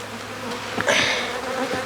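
Honey bees buzz steadily around an open nuc hive, a close, continuous drone that swells briefly as a puff of mist hisses over them.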